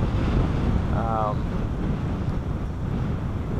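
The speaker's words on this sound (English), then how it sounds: "Very windy." Strong, steady wind roars across a frozen lake, buffeting the microphone with constant low rumbling noise throughout.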